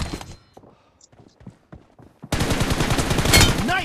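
Gunfire in a team deathmatch shooter game, scattered faint shots at first, then a sudden loud stretch of rapid automatic fire with a voice talking over it.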